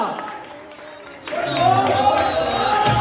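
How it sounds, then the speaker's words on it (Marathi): Crowd clapping and cheering at a Dahi Handi festival celebration, swelling suddenly from a quieter murmur into a dense, sustained wall of applause mixed with voices. "टाळ्या वाजत राहिल्या पाहिजे, टाळ्या वाजतच राहिल्या पाहिजे."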